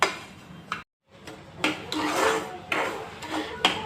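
Semolina dry-roasting in a pan over a medium flame, a spoon rasping and scraping through the grains in short strokes, close and fairly loud, with a brief silent gap early on.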